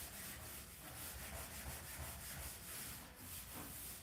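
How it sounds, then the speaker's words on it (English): A Scotch-Brite pad scrubs dried glue off model railway track, a steady close rasping rub with rhythmic back-and-forth strokes, fairly quiet and alone. "Scotch-Brite pad takes that right off"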